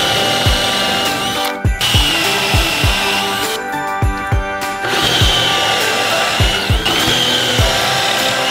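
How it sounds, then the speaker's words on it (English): Power drill boring pocket holes into wooden cabinet shelf boards, loud repeated high whirring bursts, each spinning down with a falling pitch before starting again, close and continuous. "I started putting pocket holes in what would be the top and bottom shelf of the cabinet"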